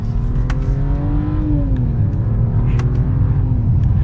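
A 2022 Mercedes-Benz S500 sedan accelerating hard, its engine note rising smoothly in pitch then dipping at a shift before climbing again over a steady low road rumble, heard from inside the cabin.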